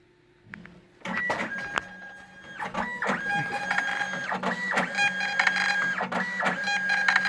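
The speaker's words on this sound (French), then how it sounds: "on choisit le produit dont on veut imprimer l'étiquette et on clique sur imprimer" Label printer in a warehouse setting printing shipping labels for a customer order, a steady mechanical whirr with repeated feed bursts and clicks, close and continuous with no voices.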